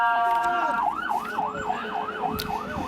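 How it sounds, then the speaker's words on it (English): Wailing ambulance siren sweeping up and down steadily as it moves through a street protest, loud and continuous over crowd noise and scattered voices. "Ambulance coming through."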